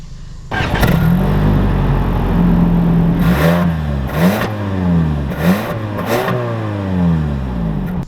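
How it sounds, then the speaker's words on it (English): A 2021 Lexus ES 250 Luxury AWD sedan pulling away: the engine starts up loud and close, then revs steadily through several rising sweeps as it accelerates, with no talking. "let's take this ES 250 out and see how it drives"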